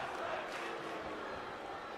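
A hometown crowd at a pro wrestling main event roars in a continuous wash of cheering, fairly distant and moderately faint throughout.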